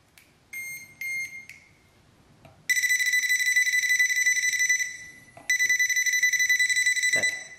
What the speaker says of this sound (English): this device here, which will beep when the power's on.